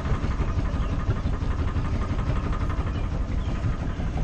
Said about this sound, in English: That rattling you hear is actually the boarding ladder and the propane griddle on the back rattling around.